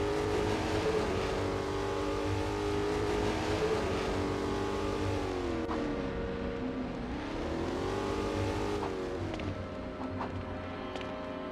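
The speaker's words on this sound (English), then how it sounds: "Batman, you can't steal Redman's vehicle" Engine of a car in LEGO Batman: The Video Game, loud and continuous, its pitch rising and falling as it drives off, with steady backing music and no talk.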